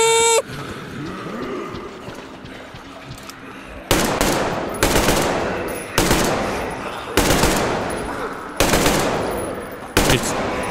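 Machine gun in the video game Metro Exodus fires in loud, repeated bursts about every second, each burst ending in a decaying echo, after a quieter stretch of game ambience.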